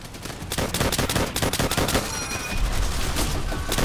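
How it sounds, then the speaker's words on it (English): Gunfire in the game Call of Duty: World at War: rapid, dense bursts of rifle and machine-gun shots crackle nonstop at close range, loud and layered, with no voices. "They're shooting at me,"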